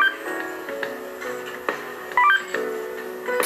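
Text message alert from a cell phone in the video game Catherine, a short electronic chime of tonal beeps over a steady game music bed, with a few brief tones rising above it.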